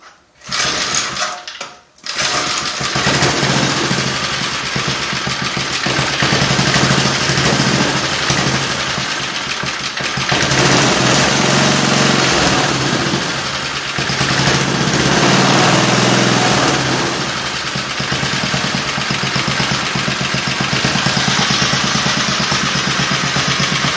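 A small mini motorbike engine runs steadily and loudly up close, a buzzing high-pitched drone with slight surges in revs, after a brief quiet moment at the start.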